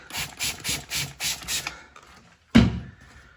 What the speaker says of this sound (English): I've used a Stanley blade to be as careful as I could